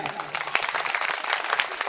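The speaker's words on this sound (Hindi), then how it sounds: "जो समझ गए वो ताली बजा के बताएं" Audience clapping at a Shrimad Bhagavat Katha religious discourse, a short burst of dense applause from a crowd, steady and fairly loud throughout.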